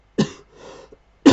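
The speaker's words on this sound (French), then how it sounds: "j'ai dû tousser" A single sharp cough, then a softer breathy exhale, and a second cough bursting out at the end, close and loud, from a man during a French maths lesson.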